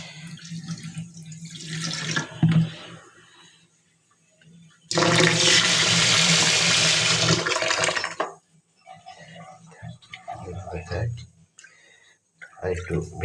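Tap water gushes loudly for about three seconds while the soaking water for rice is changed. Softer splashes and trickles come before and after the main flow.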